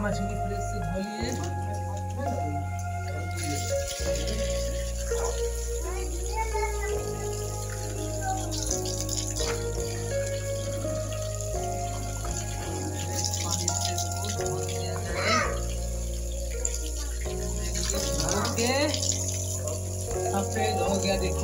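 Fresh fish are washed by hand under running water: steady splashing and trickling with clinks, set against droning background music, while a person talks over it.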